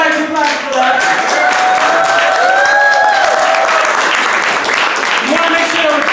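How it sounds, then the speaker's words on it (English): An audience at a talk on social housing and rent increases claps steadily, a dense continuous patter of applause from a crowd over about six seconds, with overlapping voices. "go ahead and clap for that"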